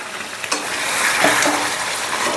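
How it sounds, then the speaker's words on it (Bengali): Chicken frying in a pan with ground roasted spice masala, a loud continuous sizzle rising and holding steady while a spoon stirs and scrapes through it, no voices. "এবারে সমস্তটা আবারও আমি মিনিট 10-এর মতন কষে নেব।"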